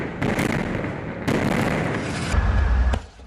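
Israeli airstrikes exploding over Gaza City at night: a few heavy, booming blasts with rumbling tails, loud and rolling from a distance with no talking.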